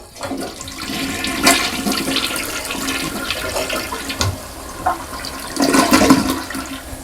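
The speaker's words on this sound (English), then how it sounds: "all we need to do is just flush the toilet and it should be fine" A toilet flushes after a Scrubbing Bubbles gel stamp has been applied to the bowl, with a loud, steady rush of water that swells again near the end of the flush.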